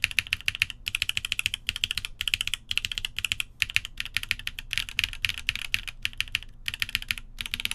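Typing on a rebuilt Bias DE keyboard with SW Coco Black switches on a polypropylene plate and GMK Nerve keycaps: close, rapid clacky keystrokes in quick bursts with short pauses, deep-toned and alone with no talking.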